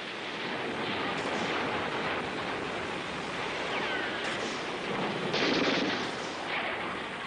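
Artillery fire pounds a stranded landing barge off a beach in World War II combat footage, heard as a loud, continuous roar of blasts blurring into dense rumbling noise for several seconds, with no voices.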